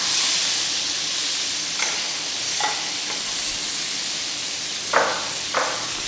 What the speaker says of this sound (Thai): แล้วก็นำกุ้งกับปลาหมึกนะคะ ที่เราเตรียมไว้ ลงมาผัดกับทานเลยนะคะ